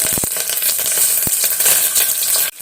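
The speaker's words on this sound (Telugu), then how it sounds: "ఆవాలు జీలకర్ర వేగిన తర్వాత ఒక 20 దాకా వెల్లుల్లిపాయలు వేసుకున్నాను." Mustard seeds, cumin, garlic and curry leaves sizzle steadily in hot oil, a loud continuous close-up frying hiss with a few sharp pops and spoon taps near the start.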